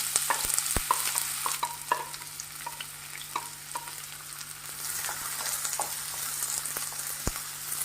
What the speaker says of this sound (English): Let it saute for a while